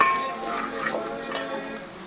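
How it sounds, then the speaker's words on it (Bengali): Salt being stirred into food cooking in a pot for a Bengali home-cooked meal, a soft continuous scraping and sizzling at moderate, steady loudness with faint tonal background sound. "এই যে এখন লবণ দিচ্ছি আমরা, এখন এটা ভালো করে মিক্স করে নেব"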